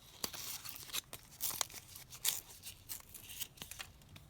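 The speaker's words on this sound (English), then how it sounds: "And then we'll tear down here" Paper scraps are torn by hand to leave ragged edges: a quiet, close series of short rips and papery crinkles in an irregular rhythm, with no talking.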